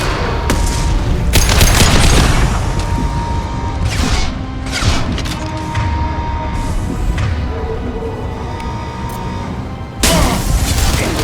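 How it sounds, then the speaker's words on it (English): Concussive shot fired in Mass Effect 2 amid a firefight: loud bursts of gunfire and sharp impacts, with a heavy blast near the start and another strong hit near the end over steady combat noise. "Firing concussive shot!"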